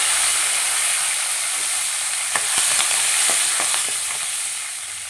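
Curry leaves, mustard seeds and chana dal crackle and sizzle in hot oil as a loud, continuous hiss. Midway a short burst of spoon strokes and pops stirs through the pan up close.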